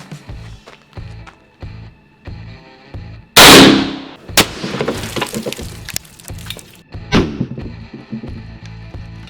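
An M1 Carbine rifle fires one loud shot into a cinder block wall outdoors, the sharp crack ringing out between quieter clicks and handling noises, followed by a few more clatters and thumps.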